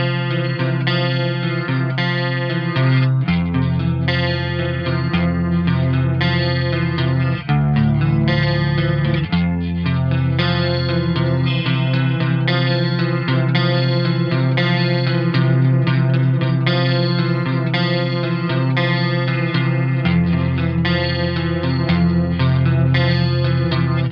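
An 1980s ESP Mirage Deluxe electric guitar played through a chorus effect, with sustained shimmering chords and melodic lines ringing loud and continuous for the whole stretch, no voices.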